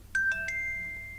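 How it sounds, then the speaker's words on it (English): Music-box notification tone on a Samsung Galaxy Watch plays three quick bright plucked notes in a rising run, the last note ringing on, fairly clear and alone over a faint hum. "Music box."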